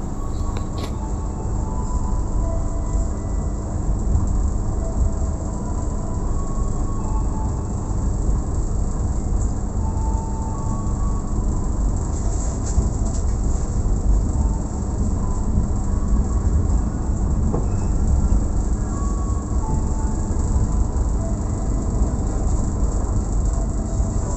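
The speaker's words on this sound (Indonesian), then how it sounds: "kereta api Majapahit melanjutkan perjalanan kembali menuju stasiun pemberhentian berikutnya" The Majapahit passenger train rolls on through the night after leaving Cirebon Prujakan station on its run from Pasar Senen to Malang. A steady, loud rumble of wheels on rails carries on without a break, heard alone.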